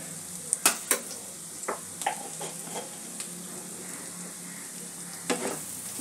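Spice paste for egg curry fries in oil, giving a quiet steady sizzle broken by a few sharp spatula scrapes and taps against the pan, close and without speech.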